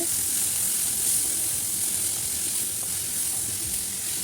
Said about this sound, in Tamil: இது ரெண்டையும் சேர்த்து நல்லா வதக்கிக்கோங்க